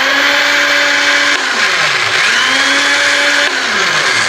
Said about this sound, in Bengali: এখানে আছে বিস্কিট, একটু মালটোবা, একটু হরলিক্স, আর সাথে ছিল কি একটা ডিম। এটাকে আমরা ব্লেন্ড করে নেব।